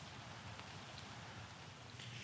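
Steady rain falls outdoors on a wet day, a constant soft hiss of drops pattering on surfaces, fairly faint and even throughout with no voices.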